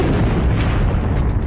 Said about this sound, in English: the core of the star collapses, and the outer layers fall in on top of it and bounce outward in a tremendous explosion